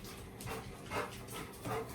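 A pet dog yips and whimpers indoors, giving three short, separate high-pitched cries close by with brief pauses between them.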